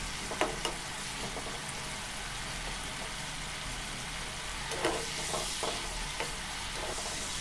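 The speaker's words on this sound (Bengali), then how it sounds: "তাই চুলায় রেখে বেশ কিছুক্ষণ এইভাবে নাড়তে থাকবো।" Chicken pieces frying in a pan with salt, a steady broadband sizzle throughout with occasional scraping stirs and utensil clicks, close and continuous.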